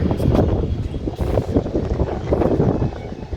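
Strong wind buffets the microphone in rough, rumbling gusts that rise and fall without pause.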